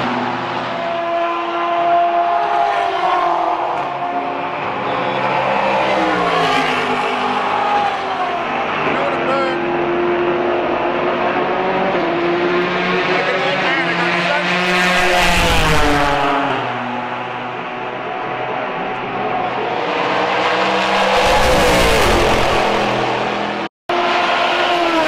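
Race cars at the 2019 Long Beach Grand Prix street circuit, loud engines screaming continuously with rising and falling pitch and two sharp, close pass-bys, with a brief dropout near the end.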